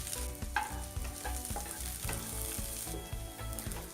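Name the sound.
onions frying in oil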